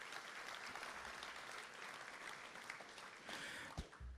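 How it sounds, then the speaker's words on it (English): Audience applause at a hall of fame induction ceremony: sustained, even clapping from a seated crowd, fairly distant and quiet, lasting about four seconds with a few sharper claps near the end. "So please give Astra a round of applause."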